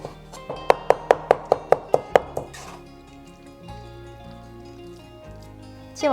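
A knife chops lean meat on a board for shumai filling: about eight quick, evenly spaced sharp strikes, then the chopping stops and soft background music carries on.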